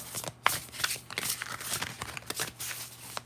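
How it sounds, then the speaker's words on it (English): Tarot cards from the Sphere of Heaven deck are shuffled by hand, giving a run of crisp riffling and sliding strokes with a few sharper snaps. The sound is close and uneven, and no one speaks. "I love how these cards shuffle"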